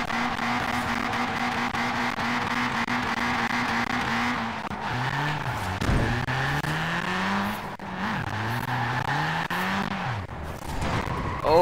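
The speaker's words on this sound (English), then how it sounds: "Do a skid." A car in Forza Horizon 4 revs hard with a steady engine drone, then skids with tires squealing and the engine note dipping and climbing through repeated slides, loud and close.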